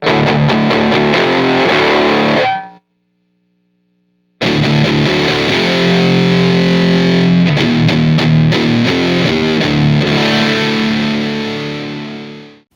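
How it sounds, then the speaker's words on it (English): Loud overdriven electric guitar plays heavily distorted chords, cutting to silence for a moment before resuming and ringing out at the end. "it kind of sounds more like that classic rock overdriven tone"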